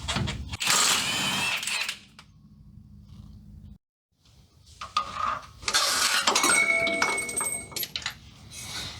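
An impact wrench with a 17 mm socket on an axle bolt of a 3rd gen Toyota 4Runner, loud bursts of hammering whir separated by a silent gap, with metallic clinks near the end.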